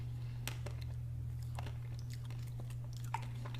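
Chewing a bite of a Dairy Queen Triple Truffle Blizzard: soft, close mouth sounds with a few faint crunches of the candy bits over a steady low hum, with no talk.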